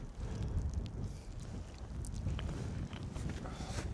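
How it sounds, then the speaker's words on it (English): Strong wind during a snowstorm at a winter camp buffets the microphone in low, uneven gusts, with faint rustling and scattered light knocks on top. "It's so windy and cold."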